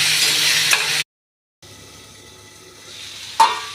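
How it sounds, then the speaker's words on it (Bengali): Pumpkin pieces fry in a hot pan with a steady, loud sizzle that cuts out abruptly, then returns quieter with a bright clink near the end. "দিয়ে লাল লাল করে কুমড়োগুলোকে ভেজে নেব"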